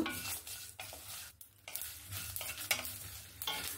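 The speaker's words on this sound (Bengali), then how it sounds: "মশলাটা এখানে আমার ভাজা হয়ে গেছে" Dry whole spices—coriander, cumin, fenugreek, fennel and dried chillies—being stirred and roasted in a wok, giving a steady close scraping rustle with soft sizzle, briefly pausing near the middle before resuming.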